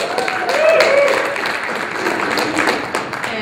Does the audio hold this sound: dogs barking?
no